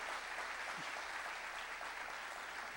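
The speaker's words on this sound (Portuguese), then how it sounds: "Louva a Deus com palmas." A church congregation claps together in a dense, steady wash of applause that fills the whole stretch at a moderate level, with no voices standing out.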